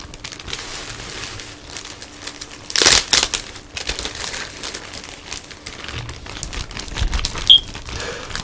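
A plastic bag and bubble wrap holding Mortal Kombat action figures crinkle and rustle close by, mostly faint and intermittent, with a louder crunching burst midway and another near the end.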